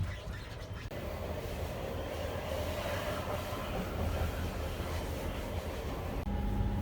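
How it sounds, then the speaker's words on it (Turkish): A steady, loud rumble of a diesel passenger train in motion, heard from inside, with a low engine drone and faint rattling carriage noise running throughout, no voices. "bu tren dizel yakıtla çalışıyor."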